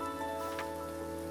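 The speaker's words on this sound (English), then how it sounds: "And now it's raining." Rain falls in the farming game Grimshire, a brief soft patter of drops blended with steady background game music.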